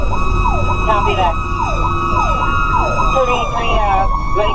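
A fire truck's Federal Q mechanical siren screams loud and close, its wail rising and falling in repeated sweeps with a steady rumble beneath throughout.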